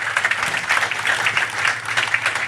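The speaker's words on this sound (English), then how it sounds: "Give them a round of applause." Crowd applause at a business event celebrating the founders of Big Johns Group: thick, continuous clapping from many hands, loud and sustained throughout with no break or voices on top.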